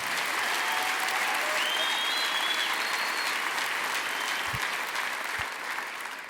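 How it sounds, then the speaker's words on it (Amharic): An audience at a Christian gathering applauds steadily, a dense, even wash of clapping that holds loud throughout and tapers slightly at the end. "እንወዳለን ብላችሁ አጨብጭቡለት።"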